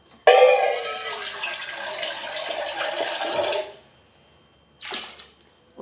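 Water pours into a pot of tomato biryani in one loud, steady gush for about three seconds, then stops, followed by a brief second splash.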